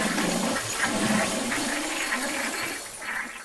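A toilet flushes in the Animal Company video game, a steady rushing gurgle of water lasting a few seconds at moderate loudness with no voices over it.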